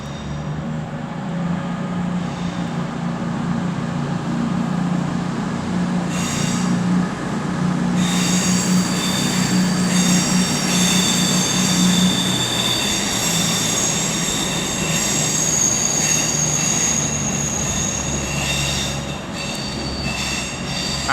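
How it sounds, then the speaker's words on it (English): A Class 221 Avanti West Coast diesel train departs London Euston on the West Coast Main Line, a steady loud rumble of engine and rolling wheels throughout with some squealing, no talk. "now departing over there will be 221 110 with the 1502 Avanti West Coast service to"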